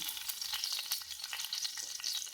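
Garlic frying in coconut oil, a bright crackling sizzle with quick sharp pops and spits over a quiet background, close and fairly soft.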